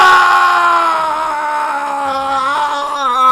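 A sustained, high-pitched scream from a character in the courtroom video game Phoenix Wright: Ace Attorney, one long wavering cry lasting over three seconds, loud and alone, wobbling in pitch toward the end.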